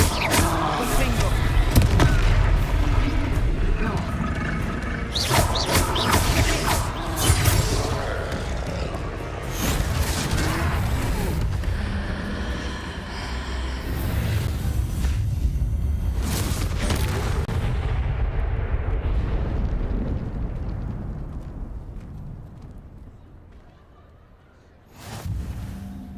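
Confringo blasting spells hit in the Hogwarts Legacy video game: a long run of booming explosions, crashes and whooshes, loud and dense, fading toward the end before a final burst.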